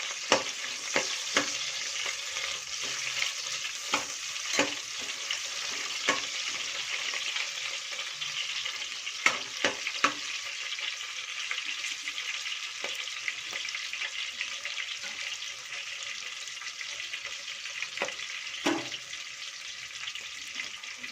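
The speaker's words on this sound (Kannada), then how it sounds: "ಮೆಣಸಿನ್ಕಾಯಿ ಫ್ರೈ ಆಗಿದೆ, ಈರುಳ್ಳಿ ಹಾಕ್ತೀನಿ." Chillies fry in hot oil in a pan for pepper chicken, making a steady hiss broken by frequent crisp pops and spatula clicks, close and fairly quiet, with no talking.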